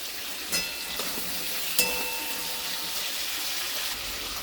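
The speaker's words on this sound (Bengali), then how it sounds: "আলুটাতে একটু নুন হলুদ দিয়ে দিচ্ছি, ভাজার সময় একটুখানি দিই।" Potatoes fry in hot oil with salt and turmeric, making a steady, even sizzle close by, broken by two or three light clinks or stirring taps.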